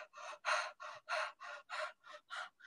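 Rhythmic, forceful nasal breaths in a detox breathing technique, about nine sharp puffs in quick even succession, close and fairly loud with short gaps between.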